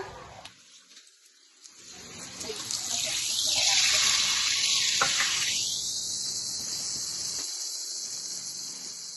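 Masala paste hitting hot oil in a pan, a sudden loud sizzle that swells into a steady hiss and slowly settles, close by.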